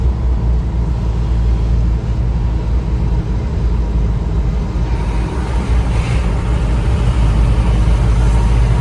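Several Mahindra Bolero vehicles drive together in a convoy on a misty, lightly rainy mountain road, giving a steady, loud low rumble of engines and tyres from inside a moving vehicle, with no talk.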